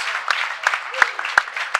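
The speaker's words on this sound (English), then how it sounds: "The crowd is clapping in unison" At a women's collegiate four-wall handball semifinal, a courtside crowd claps together in a steady, fairly quick rhythm, with sharp ball or shoe squeaks and a voice talking over it.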